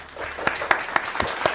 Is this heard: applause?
yes